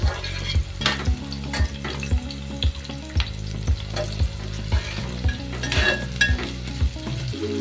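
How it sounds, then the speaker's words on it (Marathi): Onion frying with a few curry leaves in a pan for a besan masala bhindi dish, a steady close sizzle broken by repeated rhythmic scrapes and stirring knocks of a spoon against the pan. "ब्राऊन होईसपर्यंत कांदा फ्राय करून घ्यायचा आहे त्यामध्ये थोडासा कढीपत्ता टाकायचा आहे"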